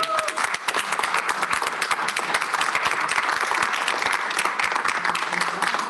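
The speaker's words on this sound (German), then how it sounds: "Und ich würde sagen, das ist ein Applaus wert." Sustained applause from an audience at a German event marking the Gaia DR3 star catalogue release, dense rapid clapping that stays loud and even throughout, with faint voices mixed in.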